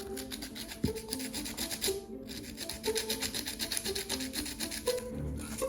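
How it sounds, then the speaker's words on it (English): A tool saws and rasps at soft clay to define ridges, making a steady, close scratchy grinding with a rhythmic back-and-forth texture and one sharp knock near the start. "I'm able just to saw these out and define the ridges"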